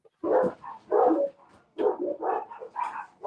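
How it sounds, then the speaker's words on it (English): Several dogs bark in bursts, a fairly loud cluster of barks and yips repeating through the moment with brief gaps between them. "got dogs barking."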